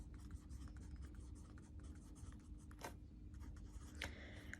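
Pen or pencil writing numbers on paper, a quiet, close scratching in short strokes with a couple of louder scrapes.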